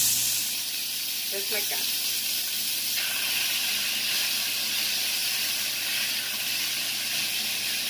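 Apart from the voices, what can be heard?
beef sizzling as it sears in a pot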